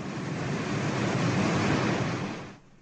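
Water of Niagara Falls' Horseshoe Falls, Canada, thundering over the brink as a loud, steady broadband roar with no voices, dropping sharply near the end.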